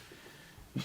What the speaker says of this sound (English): quick sneeze break.